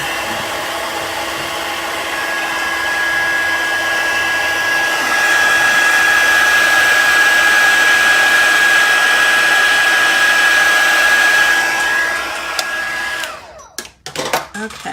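A heat embossing tool blows steadily for about thirteen seconds to melt gold embossing powder on a stamped card, a loud constant whoosh with a thin whine, ending in brief handling clatter.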